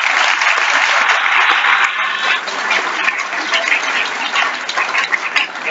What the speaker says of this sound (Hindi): सर के लिए एक बार उस तरीके की तालियां बनाइए